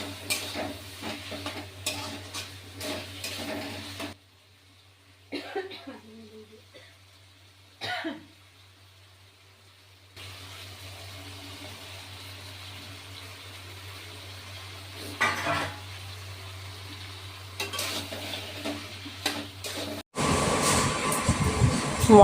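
Goat meat being stir-fried with spices in a wok: intermittent scraping and a low sizzle, close by, broken by quiet pauses and a brief cough-like sound.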